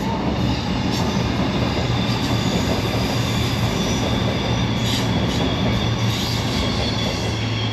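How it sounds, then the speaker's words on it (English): Derby to Plymouth passenger train rolling past along the River Dart in Devon, a steady, loud, continuous rumble of wheels on rails with faint squeals, close by throughout. "That's the Derby to Plymouth train."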